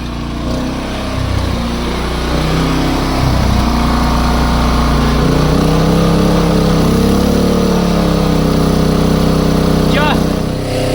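A Champion C3500iES dual-fuel inverter generator with electric start runs on gas, producing a loud, steady, close engine drone with an even low hum. A voice talks over it.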